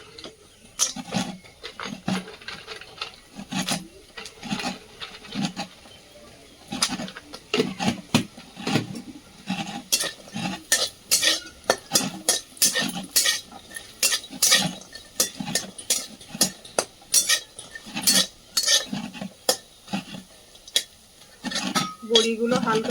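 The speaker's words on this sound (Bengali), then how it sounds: "বড়িগুলো ভেজে নেব।" Lentil dumplings (bori) fry in a pan in a home kitchen while a utensil stirs and scrapes, giving repeated irregular clinks and scrapes over a soft sizzle.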